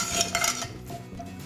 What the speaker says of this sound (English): I'm going to stir in the cooked methi